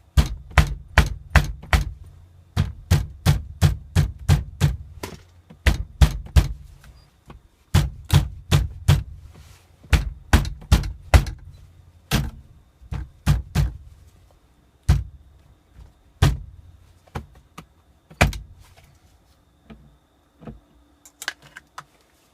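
A Toyota RAV4 steering wheel is struck repeatedly by hand to knock it loose, giving sharp, close thumps in quick bursts of several blows with brief pauses, thinning to sparser single hits toward the end.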